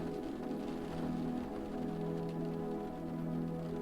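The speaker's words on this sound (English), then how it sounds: "As the rain continues to fall upon the roof" Rain falling on the roof of a car on an autumn night, a soft, even patter with a steady low hum beneath, continuous and unchanging.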